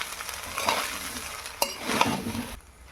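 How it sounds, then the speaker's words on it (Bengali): Ingredients for chicken fried rice with ground cashews stirred in ghee in a pan, a close sizzle under brisk spatula scraping with a sharp clink midway before the frying noise drops away near the end. "ভালো করে নেড়ে নেব।"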